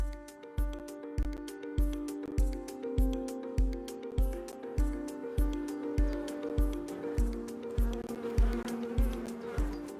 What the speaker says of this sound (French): elles ont l'air actives là, les abeilles